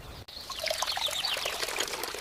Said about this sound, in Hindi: कम पानी में भी ये बूंद बूंद सिंचाई का देसी तरीका हर बीज तक पूरी नमी पहुंचाएगा